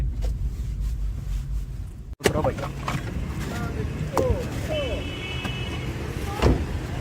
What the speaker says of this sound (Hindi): चलो गाड़ी यहाँ पे करते हैं पार्क